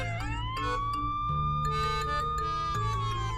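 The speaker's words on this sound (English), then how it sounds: "the police siren is playing from the speaker" A police siren wails steadily from a phone speaker in a video game scene, a loud continuous rising-and-holding electronic tone layered over busy background music.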